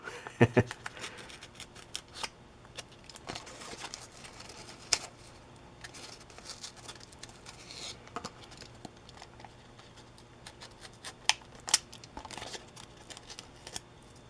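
A blade cuts through material during the install of a sound unit in a 980mm P-40 RC plane, giving a series of close, sharp snips and scraping strokes with soft handling noise in between, heard quietly over about fourteen seconds.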